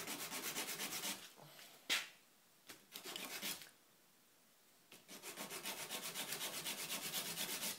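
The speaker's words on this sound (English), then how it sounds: "put on a piece of sandpaper." Sandpaper rubbed along the side edges of a wooden lantern piece makes rapid, rhythmic back-and-forth scratching strokes, close up, in two long runs separated by a few knocks and a quiet pause.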